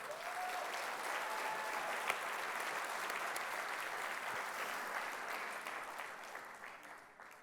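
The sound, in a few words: audience applause at gala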